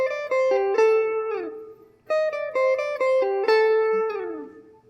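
A blues guitar lick in A opens with a sequence of two triplets in a row, clean picked notes in two quick phrases separated by a short pause, the final note ringing out and fading.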